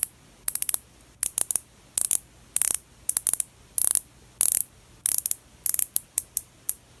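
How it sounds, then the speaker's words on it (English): Bezel of a fake watch turned in bursts of sharp, close metallic clicks, ratcheting quickly in clustered runs with short pauses between turns; no voices. "It does not have a 90 click rotation, but it's pretty well sounding."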